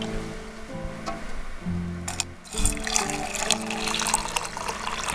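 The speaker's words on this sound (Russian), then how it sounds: "Я себе набирал воды ровно на чашку." Water is poured into a cup for tea outdoors beside a campfire in a wet forest, a close, steady liquid filling sound with a brief clatter partway through.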